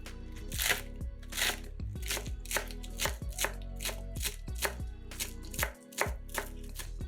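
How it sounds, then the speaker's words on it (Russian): A knife chops through a large bunch of green onions on a board in steady, rapid strokes, close and crisp, with one brief pause near the end. "Берем большой пучок зеленого лука и нарезаем его ножом."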